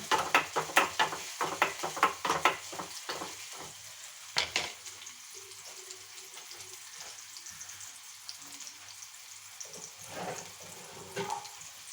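A spatula scrapes and stirs in a pan with quick rhythmic strokes, then a quieter stretch of faint kitchen noise and water.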